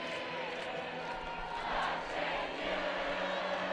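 A large outdoor crowd celebrating Trump's election loss: a sustained roar of many voices and shouts, fairly distant and muffled, with no clear single speaker.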